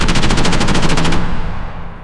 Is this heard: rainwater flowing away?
no